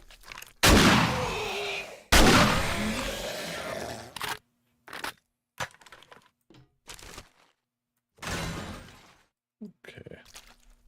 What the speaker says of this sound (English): So I kept the shotgun. Try to get those headshots.